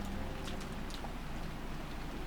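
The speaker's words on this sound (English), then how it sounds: "We can't do anything except pass the time listening to the sound of the rain" Rain falls steadily as a soft, constant patter with a few sharper drops, quiet and unbroken, heard as a sound effect in the visual novel Umineko.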